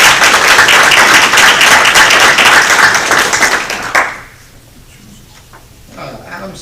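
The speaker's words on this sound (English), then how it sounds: "May we applaud both of them, and congratulations" Applause fills a Bradley County Commission meeting room, a dense steady clapping from the gathered attendees that runs about four seconds before cutting off abruptly, leaving faint room noise and a few stray sounds.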